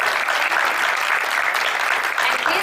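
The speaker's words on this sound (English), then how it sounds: "please give one more round of applause to your ambassadors" Sustained audience applause for Disneyland Resort Ambassador Program ambassadors at a 50th anniversary event: dense, steady clapping from a large crowd, loud and continuous throughout with no pauses.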